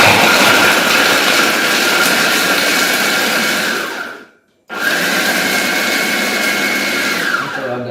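A blender on speed 1 grinds coarse pepes spice paste in a loud, steady roar that cuts out briefly and then starts again at full force.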